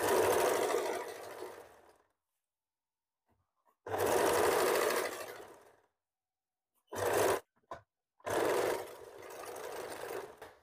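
A sewing machine stitching a hem in several close, even runs of rapid whirring, each lasting one to two seconds, separated by silent pauses, with a couple of short bursts near the end.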